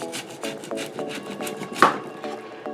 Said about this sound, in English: I'm going to chop up this onion in small little pieces